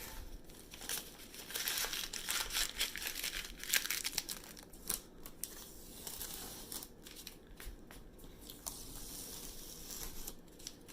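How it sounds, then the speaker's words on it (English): Tape is peeled off a painted design in a steady run of close, soft crinkling and tearing, with brief rips scattered throughout and no talking. "I'm going to take the tape off and show you what it looks like"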